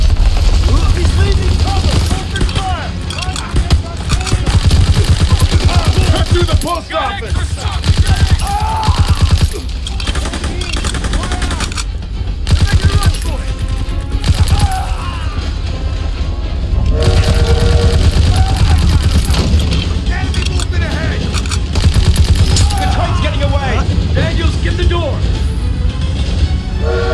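Bursts of rapid machine-gun fire and scattered gunshots in Call of Duty WWII gameplay, loud and dense over continuous rumbling battle noise, with shouted voices mixed in.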